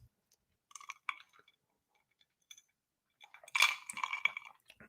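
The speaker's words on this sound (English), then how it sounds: "I'm chewing on a bit of ice." Someone chewing ice, heard as sparse, quiet, sharp crunches and clicks in short bursts with near silence between them, growing denser toward the end.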